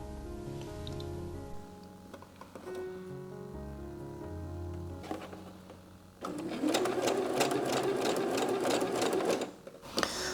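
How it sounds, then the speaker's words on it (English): A sewing machine stitches elastic onto the waist of homemade underwear, with a quiet rapid whirring that stops and starts, pauses with faint handling noises, then a faster, louder run near the end. "So you will see this at the sewing machine."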